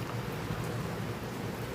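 Steady, dense rain from a July thunderstorm hisses evenly throughout, a continuous wash of drops with no distinct thunder and no voices.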